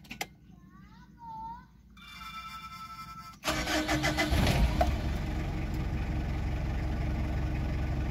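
A Mitsubishi Adventure engine cranks and catches after a capacitor repair, then settles into a steady, loud idle, preceded by a brief electronic chime and faint voices.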